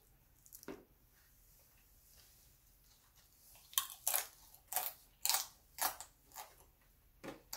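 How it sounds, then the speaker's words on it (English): Chicken nachos crunch in a close-miked mukbang, with a run of sharp, loud bites and chews coming every half second or so after a quiet start with one early crunch. "I love the crunch."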